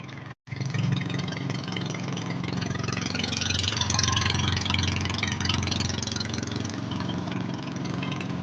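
Close, loud drone of a boat engine with a broken exhaust pipe runs steadily throughout, rough and unmuffled, after a brief dropout near the start.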